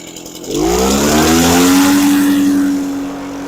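An Echo PB413H backpack blower engine, one that had trouble starting, revs up from idle to a loud, steady high-pitched drone and holds there before easing off slightly at the end.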